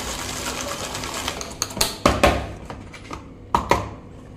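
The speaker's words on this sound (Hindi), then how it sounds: "इस तरह हम इस मशीन में हम बारीक चॉप करेंगे" A small electric chopper whirs in short bursts as it finely chops ginger, garlic and green chillies, the blades rattling and knocking between brief pauses, close and moderately loud.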